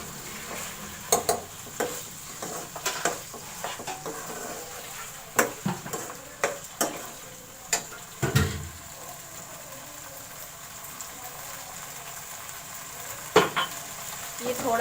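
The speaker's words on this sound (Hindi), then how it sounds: "मटर को मैं अच्छी तरह से भून लूँगी।" Peas frying in a pan while being stirred for restaurant-style matar gosht: a steady soft sizzle under irregular scraping and clinking of a spoon against the pan, with sharper knocks scattered throughout.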